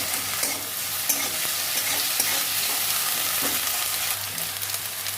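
Onion, green chilli and ginger-garlic paste sizzling in a pan of oil for a fish curry, a continuous close frying hiss with scraping stirs and occasional soft knocks, no talking.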